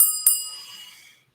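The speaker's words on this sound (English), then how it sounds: "Like to ring my bell." A bright metallic bell is struck twice in quick succession near the start, its clear ringing tone then decaying smoothly into silence over about a second, with no voices.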